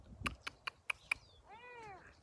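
A cat meows once, close and clear, in a garden, following a quick run of short ticking clicks.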